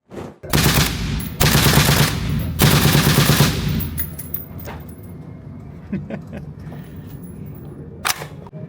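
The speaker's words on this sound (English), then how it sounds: "it still sometimes shoots a double or triple round burst and then just jams and doesn't work anymore" An Izhmash Saiga shotgun fitted with a Mars FRT trigger and Huxwrx Flow Range 36TI suppressor fires three loud, fast bursts of several shots each outdoors, followed by quieter metallic handling clicks and one last sharp report.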